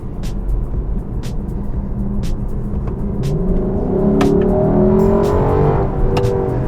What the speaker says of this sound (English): the engine will blip between gear changes, which makes them not only smoother but faster as well